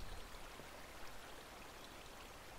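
Blocky water flowing through open gates in Minecraft, a faint, steady rushing wash of noise with no breaks, heard alone.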